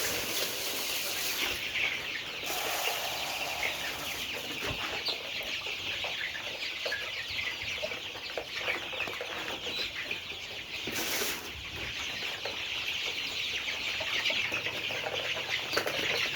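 Sonali breed chickens cluck and scratch in a busy, continuous chorus while feeding on a poultry farm, with occasional wing flaps and no talking.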